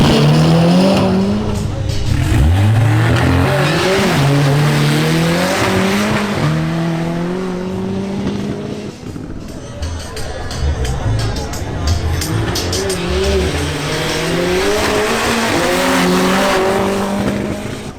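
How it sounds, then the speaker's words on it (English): Volkswagen Golf GTI and BMW M240i xDrive racing in a duel, engines loud and continuous with tires squealing at times, crowd noise and a voice talking over it. "We now have a duel between Nicolas Gomez's Volkswagen Golf GTI and Santiago Mejia's BMW M240i xDrive."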